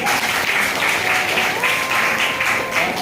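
A crowd at an indoor gathering in Virar East gives loud, sustained applause for newly appointed TCs, dense steady clapping close by with a voice faintly audible underneath.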